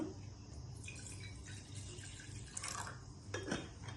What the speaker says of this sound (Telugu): దాంట్లో వాటర్ పోసుకుందాం.